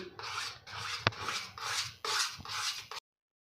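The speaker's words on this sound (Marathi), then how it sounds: "बघा अशा पद्धतीने आपल्याला सतत ढवळत राहायचं आहे जोपर्यंत तूप सुटत नाही" Moong dal halwa stirred in ghee in a pan, giving repeated rasping, scraping strokes in a steady rhythm of about five passes, close and fairly loud, with no talk.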